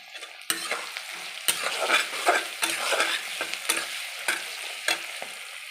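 Chilli paneer frying and being stirred in a pan, a steady sizzle broken by repeated scraping strokes of the spoon about once a second, close and clear with no voices.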